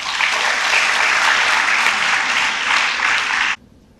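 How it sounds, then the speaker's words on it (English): Loud, dense applause from a conference audience welcoming a speaker, sustained evenly for about three and a half seconds before cutting off abruptly into silence. "Let us welcome our speaker with a round of applause."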